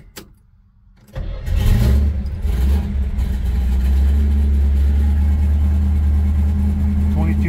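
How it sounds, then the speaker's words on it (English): A 1970 Chevrolet Nova SS 396 V8 with the choke unhooked, cold, cranks briefly and fires, then settles into a loud, deep, rumbling idle close by, with no talking. "Let me fire this thing up quick."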